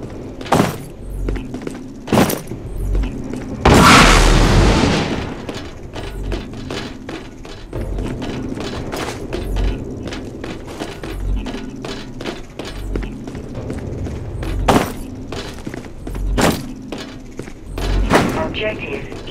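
Null cannon fire in the sci-fi shooter Dust 514 during an objective-hacking battle, with repeated heavy booms and a dense burst of gunfire, loud thuds recurring throughout under a game announcer voice.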